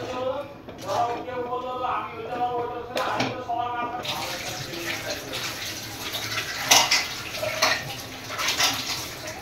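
Water is poured from a tap-like stream into egg curry cooking in a pan, a steady rushing splash that follows a brief spoken phrase and continues alone at moderate loudness.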